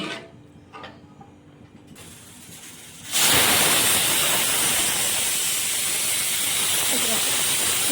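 A pressure cooker whistle blows while vegetable biryani cooks, bursting into a loud, sustained hiss of escaping steam after a few seconds of quieter kitchen background and faint clicks.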